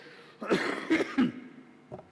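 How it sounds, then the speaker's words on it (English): A person coughs three times in quick succession, close and fairly loud, followed by a softer fourth cough after a short pause. "I'm battling a bit of a cough"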